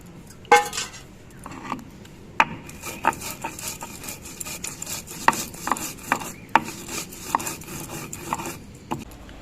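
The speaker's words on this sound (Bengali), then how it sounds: "এবার এই ভেজে নেওয়া জিরেটা বেটে নিচ্ছি" Fried cumin seeds being ground into a paste by hand, with irregular close scraping and rubbing strokes and scattered sharp knocks, moderately quiet and without talk.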